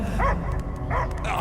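Dog barking inside a Guardians of the Galaxy game scene: two short barks about a second apart, near and clear over a low rumbling game ambience.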